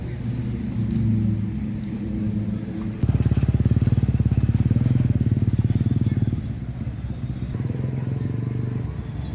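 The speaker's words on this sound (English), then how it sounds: "The streets and the motorbikes are really, really loud behind me. Some horns blasting." Loud motorbike engines rumble and rev close by on a busy Patong Beach street in Phuket, with a steady low roar that swells into a harder throbbing pass midway, over general traffic and street noise.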